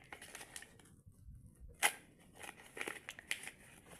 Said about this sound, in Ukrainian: Зараз ми відкриємо наш пакетик.